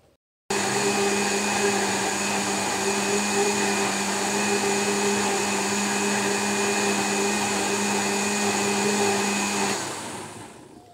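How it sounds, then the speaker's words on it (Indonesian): An electric blender whirs steadily as it blends rice water into a plant nutrient, a loud, continuous motor drone that runs for about nine seconds before winding down and stopping. "kita blender sampai benar-benar lembut, benar-benar mencampur"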